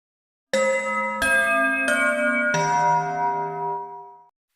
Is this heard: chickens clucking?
no